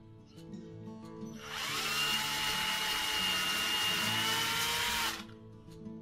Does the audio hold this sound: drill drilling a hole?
yes